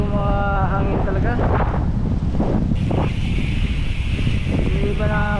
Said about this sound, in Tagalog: Medyo mahangin talaga